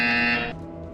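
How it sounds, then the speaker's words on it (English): A buzzer in the VR game Portal Stories VR sounds one bright, steady electronic tone, loud and clear for about half a second, then cuts off, leaving a faint hum. "You will hear a buzzer."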